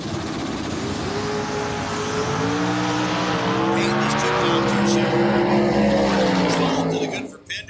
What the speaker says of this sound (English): The dial in for Pinder coming up against Peyton Bunch, down 588 in the Mustang